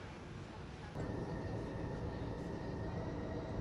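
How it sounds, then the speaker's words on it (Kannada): Steady broadband rumble of a metro train running along the line in the Philippines, continuous and moderately loud, swelling slightly after the first second with a faint high whine above. "ಸೊ ಇದು ಮೆಟ್ರೋ, ಚೆನ್ನಾಗಿದೆ ಮೆಟ್ರೋ."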